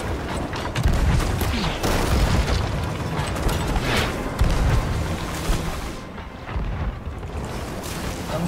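Repeated booming blasts and bursts of gunfire-like ship cannon shots in a naval video game battle roll through a dense, noisy soundscape, loud and continuous with no voices.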